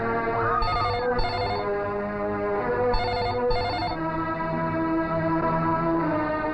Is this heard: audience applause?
no